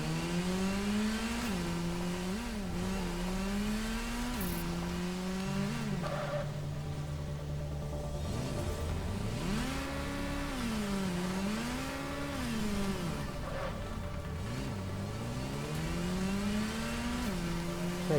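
Car engine in the Gotham Knights video game, revving and rising and falling in pitch as the vehicle drives around, steady and close throughout with occasional gear shifts.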